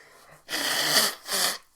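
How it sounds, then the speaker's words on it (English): A person blows their nose into a microphone in two loud, breathy, close honks, the first longer than the second, after a faint quiet moment. "let me just blow my nose here"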